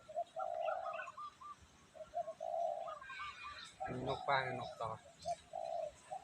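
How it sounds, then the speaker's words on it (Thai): A spotted dove coos in repeated soft, rhythmic phrases at moderate distance, and someone talks over the calls in the middle. "นี่เสียงนกตอเนี่ย"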